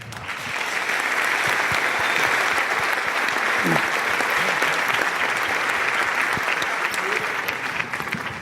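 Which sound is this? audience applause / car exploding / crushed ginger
audience applause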